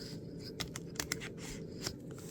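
A small knife slits open the plastic packaging of a Sony Tough memory card with a few faint, quick snips and scratches close by, over a quiet room background.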